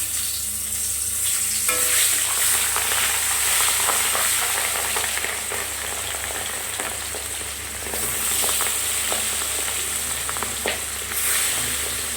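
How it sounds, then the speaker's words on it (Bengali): Katla fish pieces fry in hot oil in a kadai, a steady dense sizzle and crackle running throughout with occasional stirring scrapes, close and fairly loud. "কড়াই তেল গরম হয়ে গেছে, মাছগুলোকে আগে ভেজে নিই"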